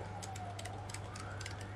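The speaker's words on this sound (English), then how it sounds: "excuse the sirens going past" An emergency vehicle siren wails faintly in the distance as it passes, its pitch slowly rising and falling over a steady low hum and light clicking.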